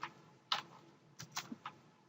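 Computer keyboard typing in Microsoft Word: a handful of sparse, light keystrokes, some in quick pairs, close and quiet with no talking.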